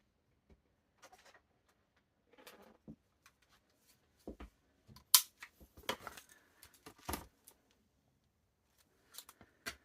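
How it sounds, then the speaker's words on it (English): Scissors cut out a fabric piece with no pins holding it, giving scattered quiet snips and short crisp bursts spread across the clip, close and fairly faint. "I'm literally just going to cut it out without pinning it."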